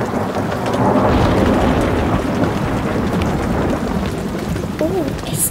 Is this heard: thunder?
yes